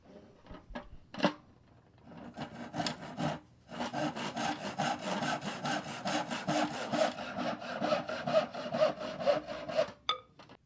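Steady back-and-forth sawing through wooden ladder rungs, rapid rhythmic strokes after a few brief starts, close and fairly loud, with no talking.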